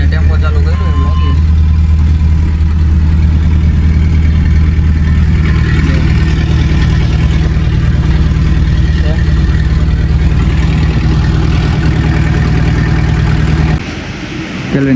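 A tempo's engine idles steadily nearby, a continuous low, even rumble that holds for most of the stretch and then drops away near the end, with faint voices in the background.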